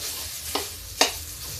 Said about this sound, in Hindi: इस मसाले को धीरे धीरे भून लेंगे